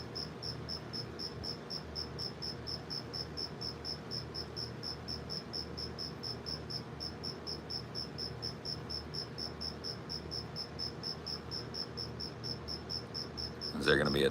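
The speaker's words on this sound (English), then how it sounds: "That cricket is loud." A single cricket chirps loudly and steadily in a fast, even pulsing rhythm that carries on without a break, with a low background hum beneath it.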